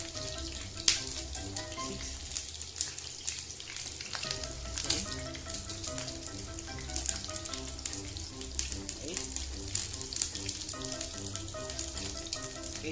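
Eggplant frying in hot oil, a dense, steady sizzle and crackle with scattered pops, close and continuous, with some background music underneath.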